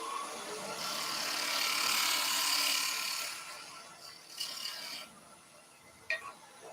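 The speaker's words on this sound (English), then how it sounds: "It's important to see what's happening with the gouge." A woodturning gouge cuts into wood spinning on a lathe, giving a steady raspy scraping that holds for about three seconds, then eases off into a few quieter, scattered touches and scrapes.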